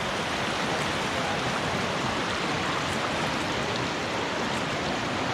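A mountain stream on the Middle Fork Snoqualmie River rushes steadily over rocks at a creek crossing, a dense broadband roar close by with no break.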